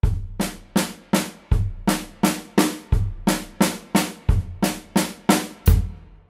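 Linear fill on a drum kit with the kick on each quarter note and alternating sticking, producing a steady, evenly spaced run of sharp close hits with low thumps at regular intervals and no talk.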